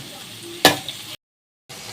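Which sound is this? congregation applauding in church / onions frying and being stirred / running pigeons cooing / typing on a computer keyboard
onions frying and being stirred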